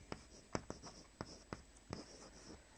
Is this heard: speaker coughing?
no